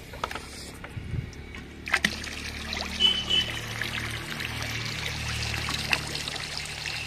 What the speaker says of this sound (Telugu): సో ఇంకా దాంట్లో వాటర్ ఇవి కలుపుకొని ప్రతి మొక్కకి ఇచ్చుకుందామండి